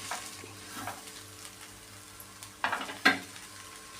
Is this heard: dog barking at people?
no